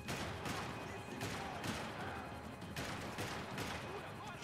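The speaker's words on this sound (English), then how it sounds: "Why would they suddenly shoot them?" Bursts of gunfire from the video game Max Payne 3, dense and crackling, repeat in rapid clusters over game sounds, moderately loud and slightly distant.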